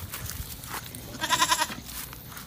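On a small farm, a goat gives one loud, wavering bleat in the middle of the moment, calling out for its companions in an unfamiliar pen, with quieter shuffling and ambient farm noise before and after.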